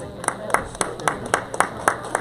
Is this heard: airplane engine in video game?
no